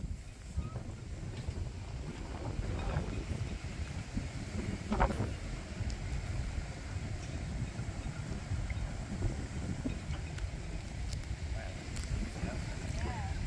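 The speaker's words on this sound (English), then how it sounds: "It's windy." Strong gusts buffet the microphone beside a canal basin, a steady low roar of wind that persists throughout with occasional knocks.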